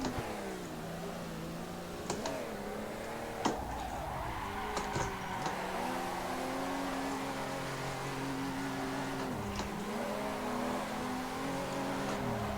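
A car engine revs hard and fluctuates through a sim drifting session in Assetto Corsa, with rising and falling pitch sweeps, occasional clutch-kick jumps and tire squeal, loud and continuous with no talking.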